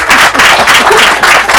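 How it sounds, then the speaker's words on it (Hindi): Audience clapping in a hall at a spiritual meditation talk, a dense continuous round of applause with steady rhythmic claps, fairly loud and close, with no voices over it. "तालियां बजाओ।"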